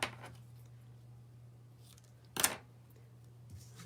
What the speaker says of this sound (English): Cut a little piece off.